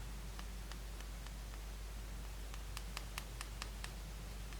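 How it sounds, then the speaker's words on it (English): A survival knife blade knocks against the back of its sheath as it moves, giving a run of faint, quick clicks, sparse at first and then clustering, under steady background hiss. "that's the sound of the blade hitting like the back of it when I move it around."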